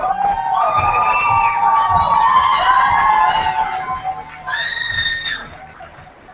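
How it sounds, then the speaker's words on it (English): A crowd at a high school slam poetry semifinal cheers and whoops loudly for a poet, with high shrieking voices rising over steady crowd noise, then a second burst of whooping near the end. "let us keep that applause going as we welcome up to the stage our next reader"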